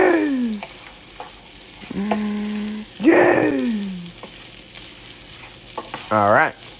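Crispy potatoes, onions and bacon frying together in a pan, a close sizzle with occasional stirring, broken by intermittent tonal swooping sounds.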